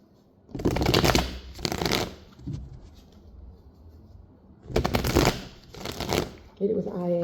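A personal deck of cards being shuffled close by: two bursts of brisk riffling flutter, a pause with faint handling, then two more riffles, ending with a short bit of voice.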